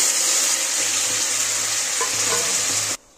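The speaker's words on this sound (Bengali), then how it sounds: "তেলটা গরম হয়ে গেছে, এবার আমি মশলাগুলো সব দিয়ে দিচ্ছি।" Ground chilli, ginger, garlic, onion and cumin pastes hit hot oil in a pan, making a loud, close, steady hiss of sizzling that runs for about three seconds, with faint stirring clinks near the end before stopping sharply.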